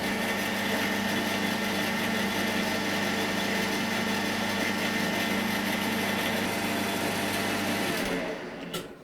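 A machine tool takes a cut along a connecting rod for a 2-inch scale Fowler showman's engine. It gives a steady, loud humming drone with a faint whine and winds down near the end, with no talk over it.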